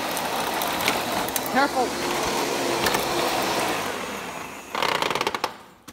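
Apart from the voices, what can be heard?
Panasonic Jet-Flo MC-5155 upright vacuum cleaner running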